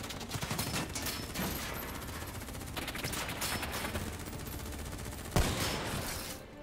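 Rapid gunfire crackles through a shootout in Call of Duty: Black Ops 3, steady dense bursts that are close and loud, with one sharp louder shot near the end before the shooting fades.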